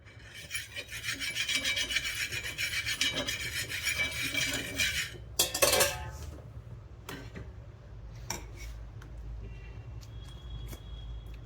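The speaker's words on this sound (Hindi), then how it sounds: "तो इसको कपड़े से साफ कर देंगे, थोड़ा प्लेन सा कर देना है।" A cloth wiping a hot pan clean after water is sprinkled on it, a close rasping rub for about five seconds, then a sharp scrape and sparse light taps and clinks.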